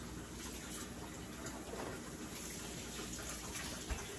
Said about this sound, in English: We're going to get the hot water going. Fill this up. We need a cup of warm water.